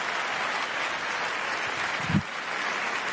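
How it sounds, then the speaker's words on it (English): Audience applause at the Bethesda E3 2019 conference: a steady, dense wash of clapping that holds evenly throughout, with a brief low thump rising near the end. "Another round of applause"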